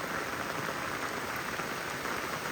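Steady rain falls continuously, wind-driven, on a house construction site in Palakkad, a dense even hiss with no talk.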